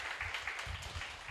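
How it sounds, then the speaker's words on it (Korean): Applause from a church young-adult worship gathering for its small-group leaders, a soft patter of clapping from the congregation lasting just over a second, fairly faint and distant. "특별히 너무 섬기느라 애써주셨던 우리 리더들에게 한 번 더 박수 보내겠습니다."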